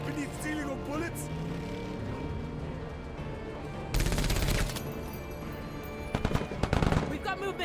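Automatic gunfire from a bug-hunting shooter game rattles in dense bursts, loudest in a sustained stretch midway and again in rapid volleys near the end, over a busy battle soundscape with talk throughout.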